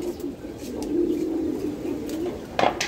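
Pigeons cooing in a breeding loft, with a steady low murmuring coo running through the clip and a brief sharper flutter or call near the end.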